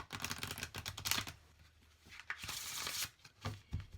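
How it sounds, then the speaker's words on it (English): Oracle cards, a Barbieri Zodiac Oracle deck, riffle and slide in a horizontal shuffle: quick bursts of crisp, papery clicks and flutters, close by, with short pauses between passes. "let me show you the horizontal shuffle"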